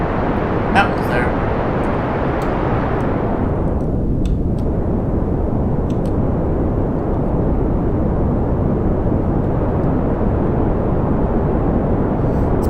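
An aircraft engine at full throttle in Kerbal Space Program, a loud steady roar that sweeps down in pitch early on and then holds constant, with someone talking over it throughout.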